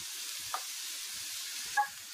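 Grated carrots sizzle steadily in a pan over a low-to-medium flame, a continuous close frying hiss broken by two brief scrapes of a spoon stirring them.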